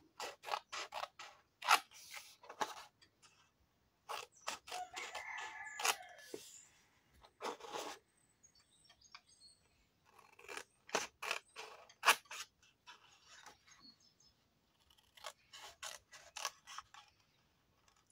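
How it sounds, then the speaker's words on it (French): Scissors snip through thin paper to cut out squares for a Christmas market gift box: short crisp cuts come in uneven clusters with pauses, faint paper rustling and handling noises between them. "Et on va couper tous les carrés du bas"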